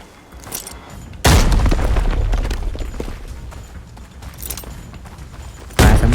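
Two loud booming grenade blasts in the video game Arena Breakout, the first trailing into a rumbling decay, the second hitting abruptly at the end.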